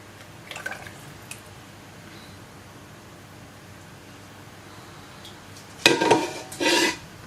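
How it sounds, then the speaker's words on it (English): Liquid is poured into a jug: a quiet stretch, then two short, close splashing gurgles near the end. "No, I'll pour it into the jug and then you can see it."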